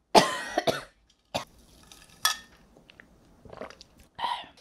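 Someone eating spicy mala tteokbokki with fried tofu coughs close to the mic, giving a burst of sharp coughs and then several shorter throat-clearing coughs separated by quiet pauses.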